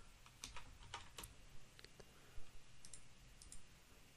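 Login details are typed on a computer keyboard, producing soft irregular key clicks in short clusters, quiet and close with low background hiss and no talking.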